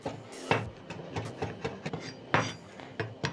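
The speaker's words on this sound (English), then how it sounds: "So I'm going to thinly slice my coriander. Finely mince my coriander." Knife finely mincing fresh coriander leaves on a cutting board for mashed potatoes, a series of crisp irregular chopping taps close by, with two louder strikes among quicker lighter cuts.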